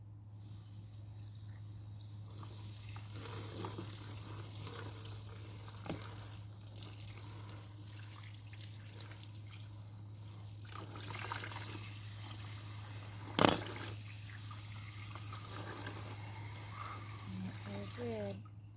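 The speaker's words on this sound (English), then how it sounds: "Can you spray me water" Water sprays from a hose onto freshly cleaned ocean fish, splashing and trickling steadily for a long stretch, with a constant low hum beneath and a sharp knock partway through.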